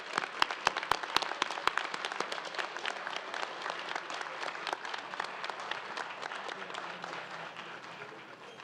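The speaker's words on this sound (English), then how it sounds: "if we could have one more round of applause for our retirees" An audience at a Founders Day ceremony applauds retirees, with sharp individual claps at the start swelling into sustained, dense applause that slowly tapers.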